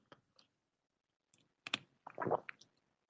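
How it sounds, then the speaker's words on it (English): A sip of Fiji water taken up close, heard as a few soft, wet clicking and squishing mouth sounds in short bursts against near silence. "I drink Fiji water like you just heard me take a sip from"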